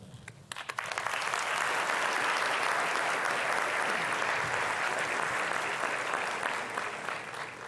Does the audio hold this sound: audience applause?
yes